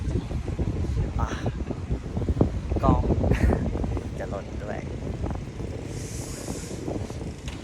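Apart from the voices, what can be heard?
strong wind noise while riding motorcycle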